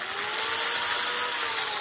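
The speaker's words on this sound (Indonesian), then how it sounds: "Kemudian saya hidupkan bor." An electric hand drill running after being switched on, a steady high-pitched motor whine held at constant speed and loud, close to the microphone, with no talk.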